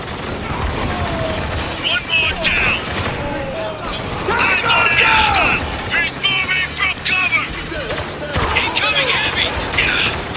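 Video game gunfire from Spec Ops: The Line or GTA Online: steady bursts of shots and weapon clatter run throughout, with voices talking over the action.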